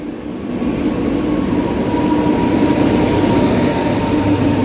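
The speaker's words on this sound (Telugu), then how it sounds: "ఇదిగోండి వ్యాప్ సెవెన్ లోకోమోటివ్ వచ్చేసింది బండి" A WAP-7 electric locomotive hauls a train into an Indian station on the Kakinada–Visakhapatnam route, a steady, loud rumble of rolling wheels and traction hum that grows slightly and holds throughout, with no voices.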